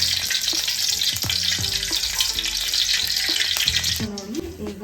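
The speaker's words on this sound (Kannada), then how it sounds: "ಈಗ ನಾನು ಉಪ್ಪಿನಕಾಯಿ ಆಗುವಷ್ಟು ಸಾಸಿವೆನ ಕಾದಿರೋ ಎಣ್ಣೆಗೆ ಹಾಕ್ತಾ ಇದ್ದೀನಿ" Mustard seeds fry in hot oil for mango pickle, a close, steady sizzle dense with tiny crackles and pops, with faint stirring clinks underneath.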